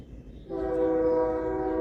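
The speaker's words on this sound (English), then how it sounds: "Now there's a train." A train passes outdoors, its steady horn-like tone swelling in after a moment of low rumble and holding loud to the end, with no talking.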